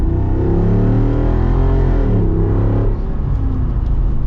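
A 2025 Jeep Wrangler engine pulls at partial throttle with a steady, loud low drone, and its pitch rises and falls slightly as the vehicle drives.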